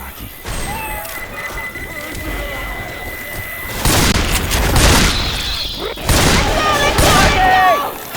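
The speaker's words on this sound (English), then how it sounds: "Pipe bomb all the way." Pipe bomb detonating in the Left 4 Dead 2 Dark Carnival campaign, a heavy boom followed by crashing debris amid gunfire, with game voices talking over the chaos.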